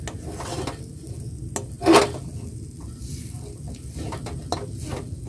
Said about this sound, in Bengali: তো দেখো নারকেলগুলো আমার ভালো করে মেশানো হয়ে গেছে।